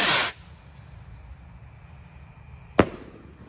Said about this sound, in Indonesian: Kita lihat ini roket Roman candle Gold Dragon Rocket guys, spesial malam takbiran Ramadan 2025.